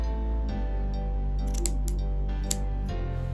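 Scissors snip crochet yarn fringes on a mesh skirt, several crisp close clicks spaced irregularly over a steady low hum.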